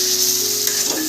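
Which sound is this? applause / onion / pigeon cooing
onion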